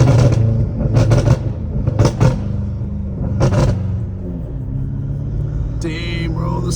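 Engine of a BMW M5 Competition revving up close, loud rumbling bursts with crackling exhaust pops between throttle blips, running steadily throughout.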